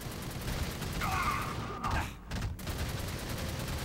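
Gunfire in the third-person shooter Fuse: a brief burst of rapid shots, fairly close and moderately loud over a steady background of game sound.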